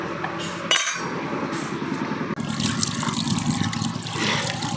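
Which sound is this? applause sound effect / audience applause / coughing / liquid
liquid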